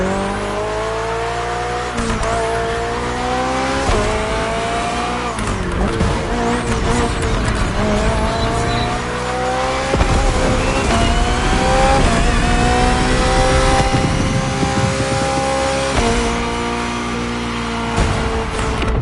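A Hybrid V8 race car screams through a race in the video game The Crew Motorfest, the engine loud and close as it revs high, drops on gear shifts and climbs again, with occasional tire squeal throughout.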